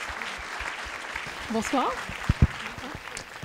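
Audience applause at a public science lecture on dark matter fills the hall as a steady wash of clapping, with a voice speaking a brief greeting over it.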